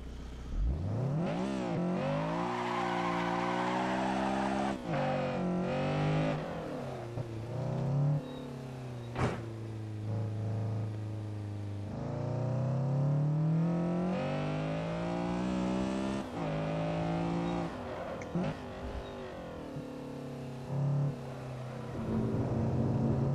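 Engine of a Honda Civic SiR-II EG6 race car in the Assetto Corsa racing game, revving high and dropping through gear changes as it laps a time-attack track, loud and continuous with no talking.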